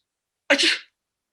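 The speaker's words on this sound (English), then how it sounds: "Another sneeze." One short, explosive sneeze up close, surrounded by silence.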